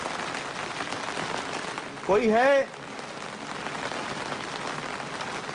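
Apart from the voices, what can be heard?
heavy rain falling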